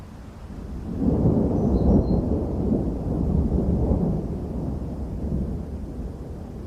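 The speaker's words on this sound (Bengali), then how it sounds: "তাহলে এত জোরে বাতাস আসছে কেন" Strong storm wind roars and rumbles steadily at a farm at night in a Bengali horror cartoon, swelling in gusts with a deep, stormy low-end rush and no voices.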